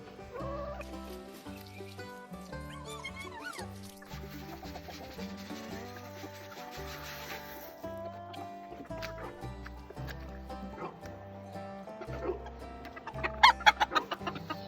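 Chickens and roosters cluck while pecking at peeled bananas, their calls running over a steady backdrop of rhythmic music for the whole stretch.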